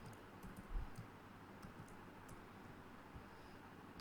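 Code being typed on a computer keyboard, a sparse run of soft, faint key clicks over a low room hum, no voices.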